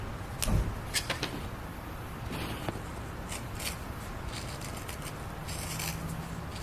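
Short serrated shears snip through exotic stingray or gator leather for 1911 pistol grips, giving a few crisp close cuts early on followed by quieter handling and scraping against a soft background hiss.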